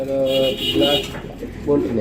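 Pigeons coo close by in low, throaty, repeated calls, with voices talking alongside.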